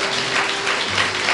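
A church congregation claps together in a brief, dense burst of applause that stays steady and fairly loud for its short length, with no voices over it.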